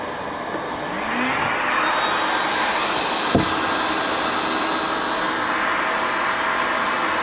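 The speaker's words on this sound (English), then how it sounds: "So here's the second heat gun." A heat gun running on a 24 V GIANDEL 3000 watt inverter gives a steady, close blowing whir that swells and then holds, with a brief click partway through.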